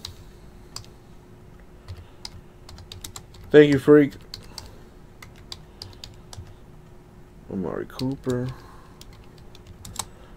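Someone types one-handed on a computer keyboard: light, scattered key clicks tap on and off at close range while someone talks briefly twice.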